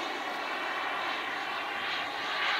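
Radio-controlled model airplane slowing on its landing approach at a model aircraft meet, its engine a steady, faint high-pitched whine swelling slightly at the end.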